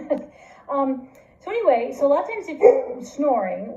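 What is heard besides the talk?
dog barking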